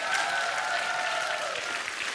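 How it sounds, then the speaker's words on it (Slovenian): A school audience at a Slovenian quiz show bursts into lively applause for the team in green shirts, a short, steady wash of clapping with no voices over it. "En velik aplavz za zelene majčke."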